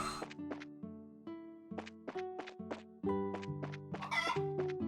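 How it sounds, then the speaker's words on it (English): Chickens in the video game Trails in the Sky FC cluck in quick, choppy bursts as they are chased, layered over continuous game music, with a sharper flurry of squawking toward the end. "I'm gonna catch this chicken."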